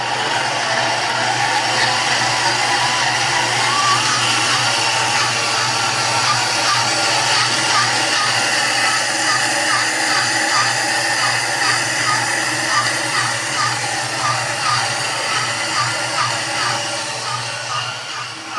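An electric mixer kneads garlic and parmesan breadstick dough at medium speed, giving a steady, loud whirring motor drone that holds for nearly twenty seconds and eases slightly at the end.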